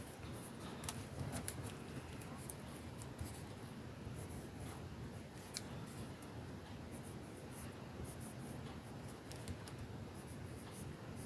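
Graphite pencil writing on a handmade Mother's Day card, soft close scratchy strokes with faint tapping, quiet and continuous with no one talking.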